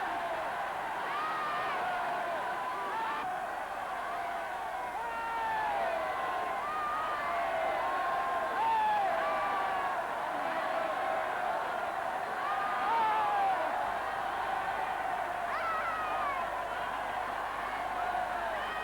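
A good-natured crowd cheering and calling out good wishes to a departing bridal pair at a 1932 wedding, a steady dense murmur of many voices with occasional shouts, heard on an old newsreel recording.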